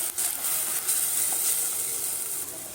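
Tomato and ground roasted spices are sautéed in a pan for mudakathan rasam, giving a soft continuous sizzle and hiss close by without talk.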